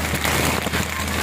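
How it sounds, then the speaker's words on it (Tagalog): Heavy rain at sea, a dense, loud hiss of drops pattering continuously on surfaces, filling the whole moment without talk. "Malakas ang ulan."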